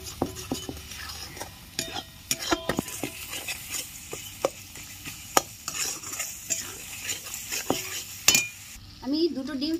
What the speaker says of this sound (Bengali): ভালো করে সব কষিয়ে নেব